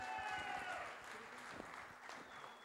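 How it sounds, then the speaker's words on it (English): Audience applause at a Philips music event, a dense wash of clapping heard briefly at moderate distance, with some crowd murmur mixed in. "Let's give a big round of applause, ladies and gentlemen."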